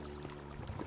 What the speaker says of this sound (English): I can pour a lava bucket.